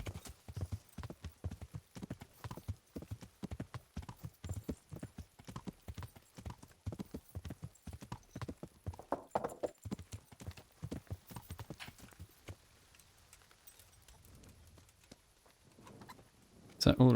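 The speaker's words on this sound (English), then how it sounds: "Is that Ulrich's horse?" Horse hooves clip-clopping in a steady rhythm on a road in the video game Kingdom Come: Deliverance, fading near the end before a short loud burst, with someone talking over the hoofbeats.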